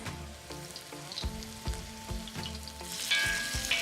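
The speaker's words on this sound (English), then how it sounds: "there's a little bit of a sizzle. I do like a sizzle" Chicken sizzles steadily in a hot pan, with a few light clinks and spoon-stirring sounds over the crackle.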